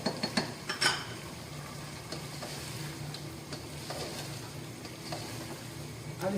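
Tomatoes go into softened, salted onions frying in a karahi, with steady sizzling and stirring, and a few sharp metallic clinks of a spoon against the pan near the start and end.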